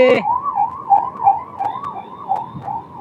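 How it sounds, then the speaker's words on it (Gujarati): An ambulance siren wails nearby, rising and falling in a steady repeating sweep for the whole stretch, with no talk over it. "એમ્બ્યુલન્સ છે"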